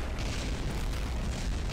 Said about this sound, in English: Somehow everything is exploding now.